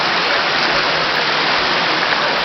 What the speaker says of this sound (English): it's raining and raining and raining